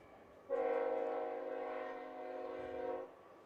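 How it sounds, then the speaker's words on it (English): A train sounds its horn in the distance near a softball field, a single sustained chord lasting about two and a half seconds over faint ambient noise. "That's actually just a train in the distance"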